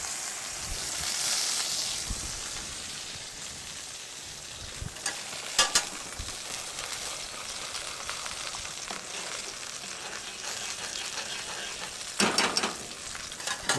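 A farm-raised Label Rouge Vendée capon supreme sizzles in a pan with a steady frying hiss, broken by a few brief clatters of stirring or handling, close and moderately loud, with no talk.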